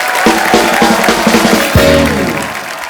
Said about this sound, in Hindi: एक बार अक्षय पाजी, इलियाना और ईशा के लिए जोरदार तालियां